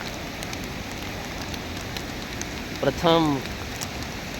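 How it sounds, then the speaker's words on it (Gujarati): Heavy rain pours steadily over the Ratan Mahal area, a constant close hiss of falling water; someone briefly speaks a word partway through. "આજે રાત્રિના સમયથી વરસાદ ચાલુ છે"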